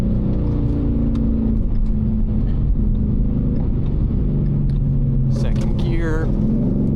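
Ford Mustang driven on winter roads, heard from inside the cabin as a loud, steady low engine drone with rising revs, while a person speaks over it.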